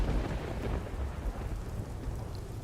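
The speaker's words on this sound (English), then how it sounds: "the storm should be over by tomorrow" A thunderstorm pours steady heavy rain, with low rumbling thunder rolling beneath the dense hiss.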